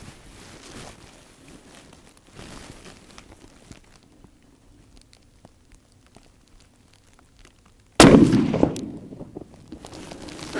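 A single loud rifle shot cracks close by, fired prone from a BOG DeathGrip tripod, after a stretch of quiet shuffling and handling noises, its report decaying over the next couple of seconds.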